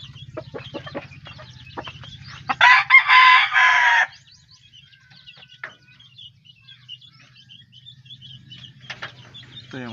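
A rooster gives one loud, close crow among a flock of backyard chickens, whose scattered clucks and chirps continue before and after it over a low steady hum.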